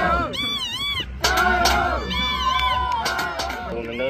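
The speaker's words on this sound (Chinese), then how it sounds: "惊天动地的欢呼声在我耳边回荡" Roommates cheer loudly for a friend in a long jump competition, a dense crowd of shouting and whooping voices with rising and falling yells, close and continuous.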